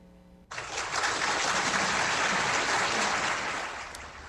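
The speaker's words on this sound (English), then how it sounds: "You can hear the applause inside the courtroom and virtually as the Golden State Killer was sentenced to life in prison" Applause erupts inside a courtroom as the Golden State Killer is sentenced to life in prison, a sudden burst of many hands clapping that swells and holds steady before tapering slightly.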